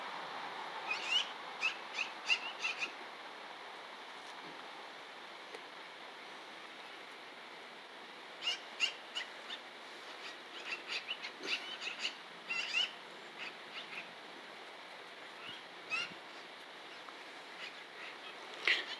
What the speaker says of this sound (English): That's what these damn birds are about, Charlie.